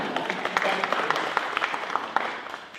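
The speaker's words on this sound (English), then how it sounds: "Applaud yourselves." An audience at a church fellowship retreat claps in a moderate, even patter with distinct individual claps, fairly close, lasting a few seconds without talk.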